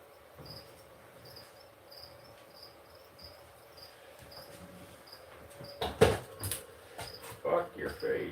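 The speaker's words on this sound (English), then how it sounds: "Damn crickets are noisy." Crickets chirp in a steady, evenly spaced rhythm, faint and high, before rustling and handling noises grow louder near the end.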